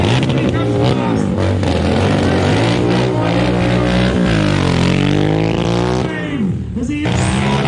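A Royal Enfield stunt motorcycle at the Peterborough MCN motorbike festival roars loudly and constantly, its engine pitch climbing and falling as it revs and sweeps past close by, with crowd noise and voices underneath.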